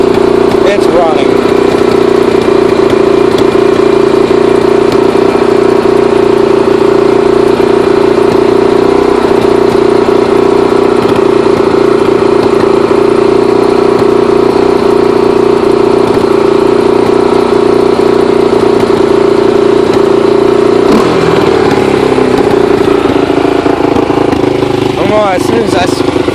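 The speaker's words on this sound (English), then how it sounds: "Gotta adjust the idle some, but it's running." A 1987 Honda TRX250X ATV engine idles steadily with a mid-pitched drone, close and fairly loud, its note shifting slightly near the end while a voice talks over it at times.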